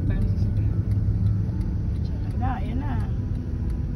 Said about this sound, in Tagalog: Daming sasakyan po.